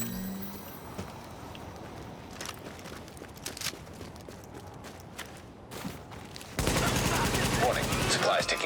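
Video game gunfire in scattered bursts and single shots at mid distance, building into a loud, dense volley of rapid fire near the end, with faint game voice alerts mixed in.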